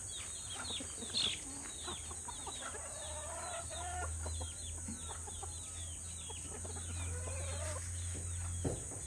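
Native farm chickens clucking as they are fed, several birds making soft, scattered clucks and short calls at a moderate distance over a steady low background hum.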